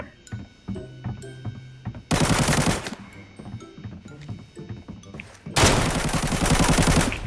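Two loud sustained bursts of automatic machine gun fire in the shooter game Arena Breakout, each lasting about a second, separated by quieter background game sounds and ticking clicks.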